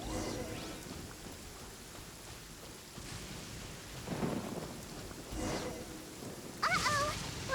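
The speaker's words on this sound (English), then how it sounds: "Uh-oh! Lightning storm!" Thunder rumbles with steady rain during a lightning storm in the video game Genshin Impact, with several low rolling swells over a constant wash of rainfall.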